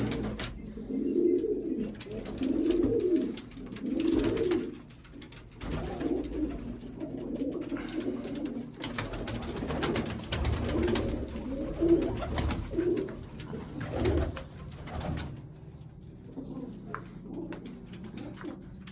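Pigeons of a purebred flock coo in repeated soft, throaty phrases, close and fairly clear, with occasional rustling and a few light chirps in between.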